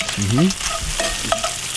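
Bacon frying on an outdoor grill at an autumn Canadian barbecue, giving a close, steady sizzle and crackle with scraping stirring noises and a few brief clinks, no talking.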